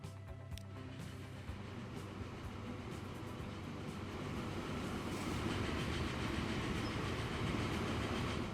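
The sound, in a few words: train running, from video game Transport Fever 2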